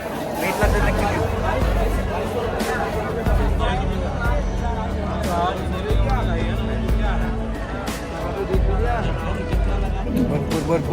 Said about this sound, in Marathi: भरपूर गर्दी आहे कालभैरवला.